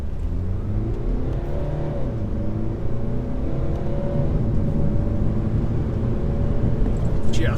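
A 2013 BMW 320d E92 coupe diesel accelerates hard from a standstill, its engine note climbing steadily and loud from inside the cabin, with a droning rise that holds to the end.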